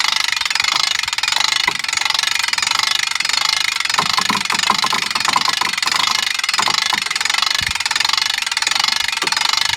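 Sea-Doo personal watercraft engine cranking and running, a continuous mid-pitched engine drone with a burst of rapid knocking, ticking firing pulses in the middle, no voices.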